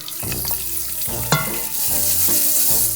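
Chopped onion sizzles and fries in hot oil in a pan as the base for risotto, a steady close crackle with stirring scrapes and no talk.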